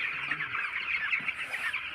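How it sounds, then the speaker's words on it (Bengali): A flock of ten-day-old poultry chicks at feeding time keeps up a dense, steady chorus of high peeping and soft clucking, close by and unbroken, with no talk. "এই দেখো কত মুরগি"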